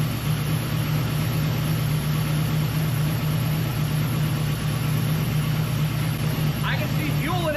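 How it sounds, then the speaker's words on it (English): A car engine fitted with Holley EFI fuel injection and known for loud lifters idles steadily at close range, a constant, unbroken low drone with a faint mechanical ticking beneath it. "sometimes my car sounds like it's kicking. It just has loud lifters"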